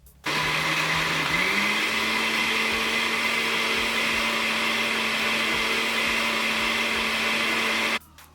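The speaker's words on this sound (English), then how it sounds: "a blender," A household blender running off a solar generator gives a loud continuous motor whine that steps up in pitch shortly after starting, then holds steady for several seconds before switching off.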